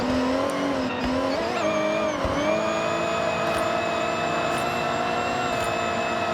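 Engine of a BMW M1 in the racing game Forza Horizon, held at a steady high rev with a constant droning whine and a brief dip near the start, loud and continuous with no talk.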